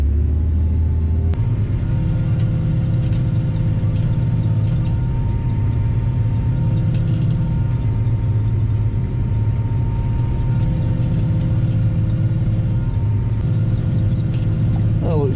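A tractor pulling a seed drill across a field gives a loud, steady engine drone with a low rumble that holds almost unchanged for about fifteen seconds, and no other sound rises above it.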